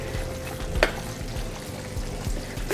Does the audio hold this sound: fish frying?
yes